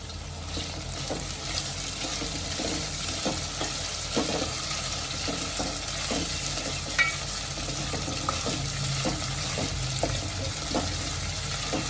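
Khichdi ingredients with coriander are stirred and sautéed in a pan, giving a steady sizzle of frying with repeated scraping strokes of a spoon, close up and without speech.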